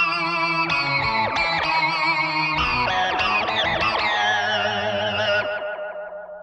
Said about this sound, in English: Here is a really cool tone called Frog Tone